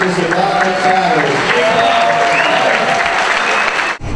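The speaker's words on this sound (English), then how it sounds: "let's a big round of applause" Continuous applause from an audience at a vintage surfboard auction, loud and sustained, with voices mixed in, cutting off abruptly near the end.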